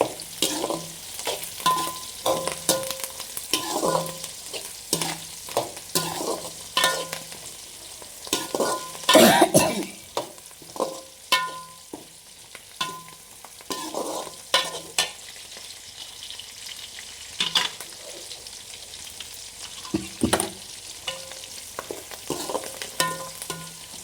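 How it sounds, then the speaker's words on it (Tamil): Onions frying with curry leaves in a pan until golden sizzle steadily up close, while frequent sharp spatula scrapes and stirring clatter break in at an uneven rhythm. "பார்த்தீங்களா, நல்லா வெங்காயம் பொன்னிறமாக வதங்கிட்டுருக்கு."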